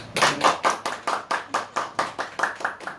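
Rhythmic, evenly spaced clapping in unison at the opening ceremony of a small business marketing association branch office, about a dozen sharp claps close by with short gaps between them.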